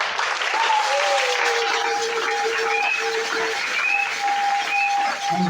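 A church congregation applauds during a Sunday service, steady dense clapping from a large crowd throughout, with sustained tones from a keyboard or organ ringing underneath.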